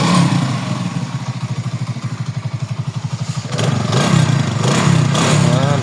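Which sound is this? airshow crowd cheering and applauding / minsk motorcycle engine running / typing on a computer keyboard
minsk motorcycle engine running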